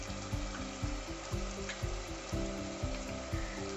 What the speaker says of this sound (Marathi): कांदा टोमॅटो छान फ्राय झालेला आहे